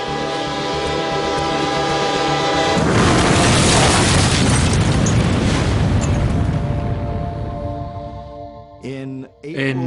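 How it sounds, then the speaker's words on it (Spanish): Train explosion in a North Korean town, staged as a documentary reenactment: a tonal train rumble and horn build into a sudden loud, sustained blast roar that fades, followed by brief horn-like tones at the end. "se produjo una explosión de un tren en el norte de Corea del Norte"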